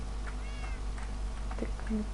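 Several cat meows in a survival video game, short and mid-pitched, rising over a steady low hum and faint background noise.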